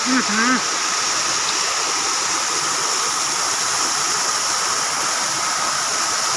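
A waterfall deep in Similipal forest roars in a steady, loud, broad rush of falling water, with a brief voice heard at the very start.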